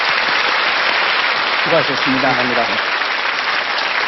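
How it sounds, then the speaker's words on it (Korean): Broad, steady applause from a lecture audience fills the whole stretch at high volume, with a brief voice speaking over it midway. "박수 부탁드립니다."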